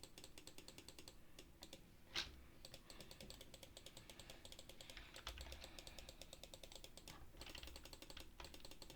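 Rapid, steady clicking of a computer mouse during a game, close and quiet, continuing without pause throughout.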